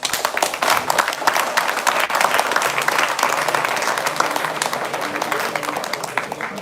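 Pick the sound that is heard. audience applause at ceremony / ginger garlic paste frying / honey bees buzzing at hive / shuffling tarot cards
audience applause at ceremony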